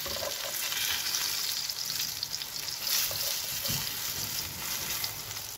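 Eggplant frying in oil in a pan, a steady close sizzle with occasional crackles and light stirring, no voices.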